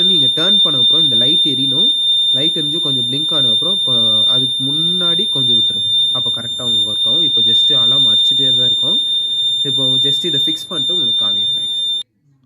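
A homemade LPG gas alarm sounds a loud, steady high electronic tone without pause, while someone talks over it throughout until the alarm cuts off near the end.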